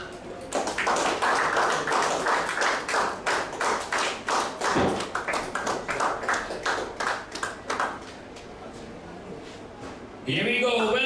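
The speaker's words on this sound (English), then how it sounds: "give a big round of applause to our main sponsor and the tournament director" Sustained applause from a crowd at a cricket player auction, dense clapping over a steady roar with voices mixed in, fading slightly before a brief shift near the end.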